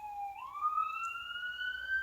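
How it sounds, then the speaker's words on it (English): A single siren sweeps upward in pitch and sustains a steady wail, faint and distant against a quiet background. "Yeah, great sirens."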